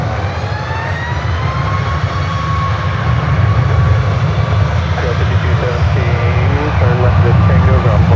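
A United airliner passes directly overhead at San Francisco airport, its engines a loud, steady broadband roar that swells slightly toward the end, with faint whining tones mixed in and no clear talking.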